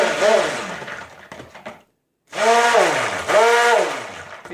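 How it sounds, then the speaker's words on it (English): A stick blender whirs in short bursts while air is worked out of it in soap oils, each burst swooping up and down in pitch, with a brief silent pause between runs. "So I'm just getting all the air out of my stick blender."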